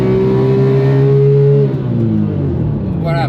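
A Porsche 997 GT3 RS at the Nürburgring, its engine loud and close as it revs high and then drops through a gear change into a lower, rougher pitch, with someone talking over it.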